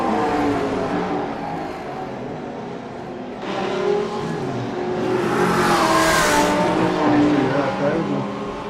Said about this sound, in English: great engine sounds.